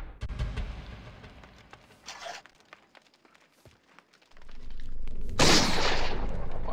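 Pistol shots in a horror video game set in a house's kitchen, with sharp cracks and thuds scattered through the first seconds, then a loud sustained burst and roar.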